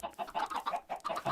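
Short clucks from Minecraft chickens repeat in uneven bursts, close and steady, with no voices over them.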